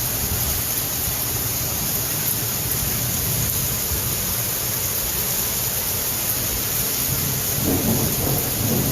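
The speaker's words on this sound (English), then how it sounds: "Although the storm was quite severe and some incidents required the intervention of firefighters" Severe thunderstorm over Lombardy with steady heavy rain hissing on surfaces and deep rolling thunder rumbling underneath throughout, loud and continuous with no voices.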